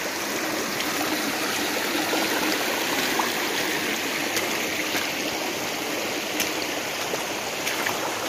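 River flowing through upland headwaters near a waterfall in North Aceh, a steady broadband rush of water that runs evenly throughout, close and fairly loud, with no voices.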